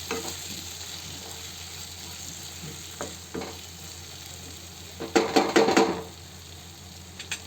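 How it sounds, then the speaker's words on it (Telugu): Masala for kaju paneer frying in oil in a pan, a steady soft sizzle with scattered scrapes and a louder burst of stirring clatter near the end; no one talks. "చూసారు కదండి, మన మసాలా అనేది బాగా ఫ్రై అయిపోయింది. సో ఆయిల్ కూడా పైకి వచ్చిందండి"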